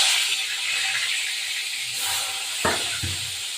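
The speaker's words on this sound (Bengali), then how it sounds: "প্রথমে এই মাছগুলো ভাজবো" Rohu fish, rubbed with salt and turmeric, frying in hot oil for a thin fish curry, giving a steady broadband hiss and sizzle with a brief louder crackle near the end.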